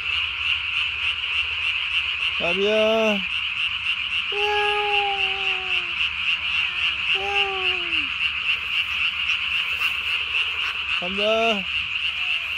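A tree frog trills steadily and loudly at night, close by, while someone speaks briefly and several short, distinct calls rise over the constant chorus.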